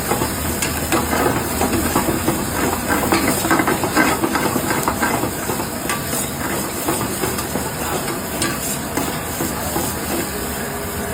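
Onions frying in a pan, a steady loud sizzle and hiss with crackling pops running continuously and close, no talk over it.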